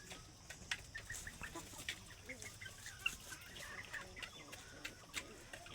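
Native (desi) chickens cluck on a farm that also keeps ducks, with repeated short clucks and calls at moderate distance over a faint outdoor background.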